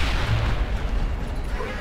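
A deep, rumbling grenade explosion from the video game Mass Effect fills the moment, loud and sustained with heavy low-end roar and no clear attack, as if the blast's tail is still rolling through a corridor.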